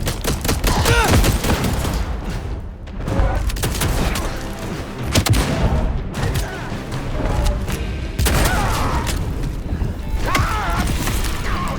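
Heavy gunfire in Vampire The Masquerade Bloodlines 2, dense repeated shots and impacts in loud, continuous volleys with mechanical clatter and occasional voices underneath.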